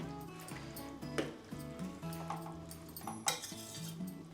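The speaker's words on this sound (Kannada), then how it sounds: "ಉಪ್ಪು ಹಾಕಿ ಸ್ವಲ್ಪ ಕೈ ಆಡಿಸ್ತೀನಿ" A spoon stirs rice cooking with salt in safflower milk in a pot, giving scattered clinks and scrapes with a few sharper knocks, quiet under soft background music.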